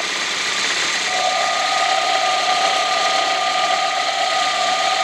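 A car engine's water pump is heard up close at idle, a continuous mechanical whir and light rattle with a steady thin whine, checked for knocking.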